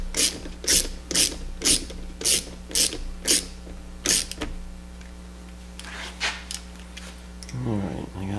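A wrench ratchets in repeated bursts as Loctite-coated screws are torqued to 6.5 foot-pounds on a 115 outboard motor, with a steady low hum underneath and a brief voice near the end.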